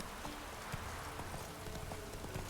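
Horse hooves clip-clop in the rain in The Witcher 3 video game, a steady trotting rhythm close by over a constant patter of rainfall.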